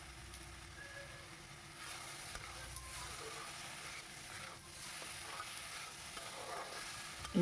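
Potato and ridge gourd frying with chilli powder, a low continuous sizzle with occasional stirring scrapes, close but faint and without voices throughout.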